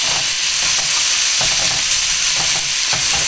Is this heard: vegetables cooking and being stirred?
yes